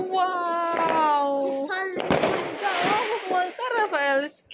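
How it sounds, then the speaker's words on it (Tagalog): New Year's Eve fireworks in Germany crack and pop nearby in short bursts, partly buried under a child's excited chatter and adult voices. "Kita ng fireworks."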